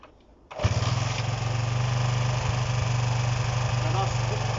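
Honda CB125 RS motorcycle engine with the choke held on, catching after a brief cranking start and then running at a steady, loud, fast idle with an even buzzing throb.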